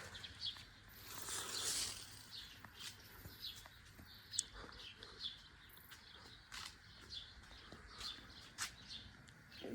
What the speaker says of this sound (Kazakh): Құстардың дауысы.